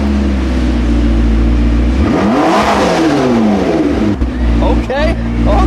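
A McLaren engine in track mode with the 4,000 rpm limit lifted idles loudly up close, then swings through one big rev that climbs and falls, followed by a couple of quick blips.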